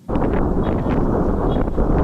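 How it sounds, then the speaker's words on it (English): Steady, roaring wind buffets the microphone throughout during a cycling stop at Wayland Mill, a dense low rumble with gusty rustling and no clear voices. "It's quite windy today,"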